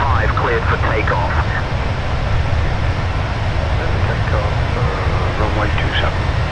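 Airbus A320 jet engines spooling up for takeoff in a flight simulator, a steady loud roar filling the whole stretch while a radio voice talks over it.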